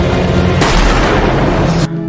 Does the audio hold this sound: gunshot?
yes